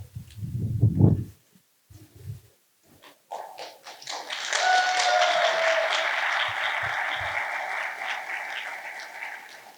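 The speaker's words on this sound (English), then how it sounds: "I don't know who you guys are cheering for." An audience at the BSides Tampa 2024 security conference opening breaks into loud, sustained cheering and applause with high whistles. Scattered knocks and a brief voice come first, then the crowd noise swells and holds steadily to the end.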